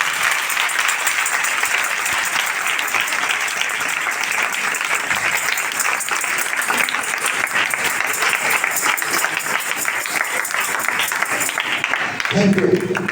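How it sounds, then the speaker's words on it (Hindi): A church congregation at a prayer and healing meeting claps loudly for a long unbroken stretch. The dense applause fills the whole space and holds steady throughout. "हम पहले खुदावंद के जलाल के लिए जोरदार ताली बजाएं।"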